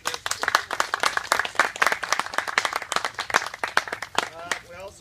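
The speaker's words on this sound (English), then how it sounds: "I would like if you could please give our board a round of applause for this." A room at an opening reception claps for the board, a lively burst of many distinct, sharp hand claps in quick irregular rhythm, with a voice starting to speak as the clapping fades.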